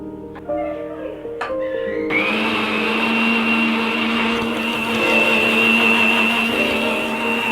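A blender whirs loudly and steadily while puréeing boiled oyster mushroom soup, starting after a few short clicks and knocks and then running as one continuous, close motor drone.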